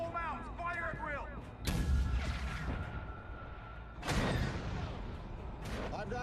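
Naval guns fire aboard a WWII destroyer in a film battle scene, two heavy booming blasts about two and a half seconds apart, each rolling into a long rumbling tail, with faint voices and ship noise underneath.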